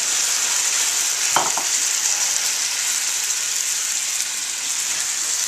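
Chablis white wine poured into a hot pan of Corn Maque Choux, giving a steady, bright sizzle throughout with a brief pouring splash near the start.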